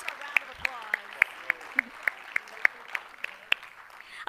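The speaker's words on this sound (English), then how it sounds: "Let's give them a round of applause." A few people clapping slowly and sparsely, about a dozen distinct, evenly spaced claps at a school board meeting, honoring the two-time state champion wrestling team; a quiet room with faint murmuring behind.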